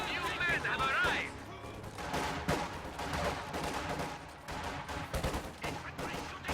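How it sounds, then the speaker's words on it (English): Infantry gunfire in a war strategy video game, dense overlapping bursts and shots rattling continuously under a busy mix of game sounds, with a brief whistling tone at the start. "Infantry shooting at us."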